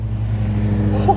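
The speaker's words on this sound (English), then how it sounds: "We got a Pininfarina Battista and the Senna GTR being driven on the road again" Pininfarina Battista and McLaren Senna GTR driving through a street traffic jam, heard as a steady, fairly loud low engine drone, close by, with no talking.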